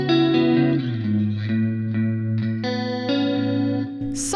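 Electric guitar played slowly through a long reverb plus a modulation effect, chorus-like shimmering sustained notes changing every second or so, loud and unaccompanied, with a brief bright scrape near the end.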